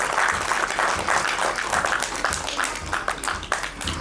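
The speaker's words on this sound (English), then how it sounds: "let's have a round of applause for our Didis, our Malivia, and our support staff" Audience applause at a school annual day event, a dense sustained round of clapping from a large crowd in a hall, loud and continuous, fading slightly toward the end.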